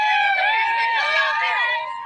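Noisy crowd of protesters shouting over the Prime Minister's speech, a dense, loud tangle of overlapping yelling voices close by, continuing without pause throughout.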